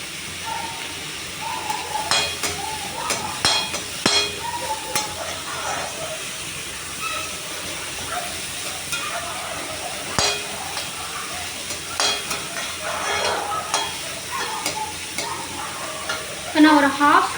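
Chopped carrots stir-fried in a pan for a vegetable sandwich: a soft, continuous sizzle with repeated scraping and clinking from stirring, close and moderately loud, with faint voices now and then.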